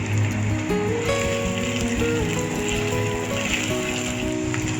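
Chopped ginger and green chili frying in hot ghee and oil, a steady close sizzle and crackle with a faint mechanical ticking underneath.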